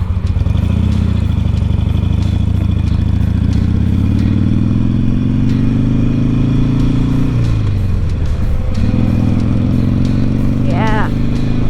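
A Harley Sportster motorcycle idles with its engine and exhaust running, a loud, close, throbbing rumble that rises and dips as the throttle shifts, with a faint rising chirp near the end.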